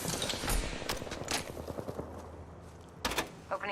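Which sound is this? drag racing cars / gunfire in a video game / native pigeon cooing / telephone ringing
gunfire in a video game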